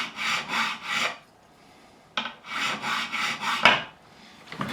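Close rhythmic rasping strokes of a file recrowning a guitar fret on a Fender Strat, grouped back-and-forth scrapes in two bursts with a brief pause between, metallic and gritty, no talking.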